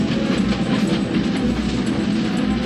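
Train on railway tracks in a 1983 James Bond chase scene, a loud continuous rumbling roll with faint rail clatter and no talk.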